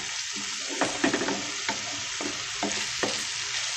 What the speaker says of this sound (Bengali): তো কিছুক্ষণ আবারও কষিয়ে নেব।